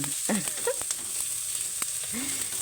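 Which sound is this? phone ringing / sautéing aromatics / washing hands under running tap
sautéing aromatics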